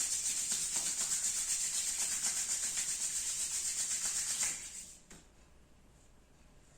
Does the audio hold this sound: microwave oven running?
no